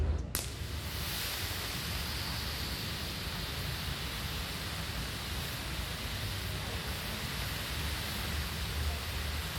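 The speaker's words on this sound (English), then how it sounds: "we're going to show you an effect which is called the Silver Cascade" A Le Maitre Silver Cascade stage pyrotechnic fires from a truss, bursting with a sharp ignition crack and then a steady, loud, broad hiss of falling sparks that holds without a break.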